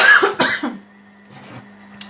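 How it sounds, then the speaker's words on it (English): A woman coughs two or three times in quick, close, harsh bursts, followed by a quiet pause and a small throat sound. "I'm going to cough"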